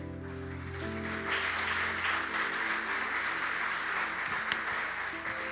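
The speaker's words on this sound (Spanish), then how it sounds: "Dale un fuerte aplauso al Señor." Congregation applause during a church service, a soft wash of clapping rising over sustained musical tones, moderately distant and fairly quiet throughout.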